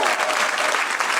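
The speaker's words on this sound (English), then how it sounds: "Clap your hands if you like the Bad Friends." Comedy club audience at The Comedy Store clapping, a dense, steady burst of applause filling the room, loud and close, over a faint voice.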